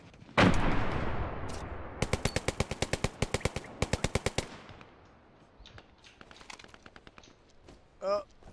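Gunfire in the World War II shooter Hell Let Loose: one loud nearby blast, then rapid bursts of automatic fire in two clear volleys, followed by scattered distant shots and a short voice near the end.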